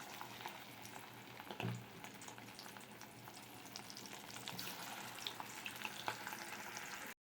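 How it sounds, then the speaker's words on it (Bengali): Lentil fritters frying in oil in a wok, a steady soft bubbling sizzle with faint crackles and one brief louder splash, close but quiet, with no talking. "বড়া কটা ভেজে নিচ্ছি।"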